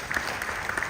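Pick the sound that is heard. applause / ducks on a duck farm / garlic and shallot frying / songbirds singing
applause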